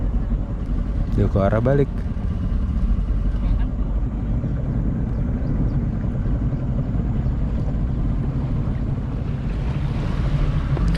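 A speedboat travels along a river toward Long Bagun, its engine a steady loud drone with water rush and wind buffeting the microphone; a voice briefly speaks over it.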